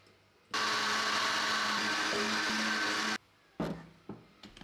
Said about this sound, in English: Blend until smooth, then strain.